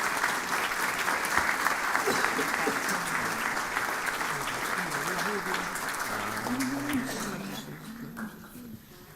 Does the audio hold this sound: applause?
yes